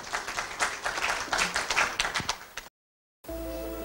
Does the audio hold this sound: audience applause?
yes